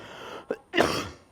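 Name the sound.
person coughing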